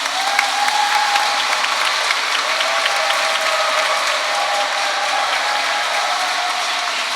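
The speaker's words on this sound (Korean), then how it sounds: "감사의 박수 드립니다" Congregation in a church at an evening Mass for a Holy Spirit seminar applauds warmly, a dense, loud, continuous clapping that holds steady throughout with no talk.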